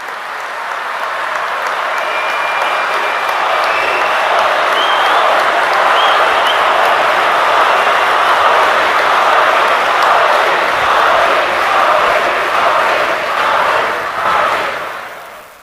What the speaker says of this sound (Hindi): आप जोर से तालियां बजाकर उनका फिर से अभिवादन